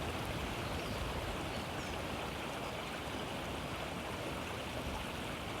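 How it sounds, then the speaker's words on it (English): Continuous flowing water, like a stream, a steady even rush of moderate level with no pauses and no voices, heard as a calm meditation backdrop. "letting your mind, your attention settle on the sound of the water."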